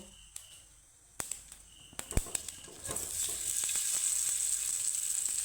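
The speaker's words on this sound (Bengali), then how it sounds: "তো একটু চটপটা মুখরোচক বানানোর জন্য আমি একটু এইভাবে তরকা দিয়ে দিচ্ছি" Tempering for a raw moong dal and yogurt dish crackling into hot oil, a few sharp pops then a sustained bright sizzle that holds steady, no talking.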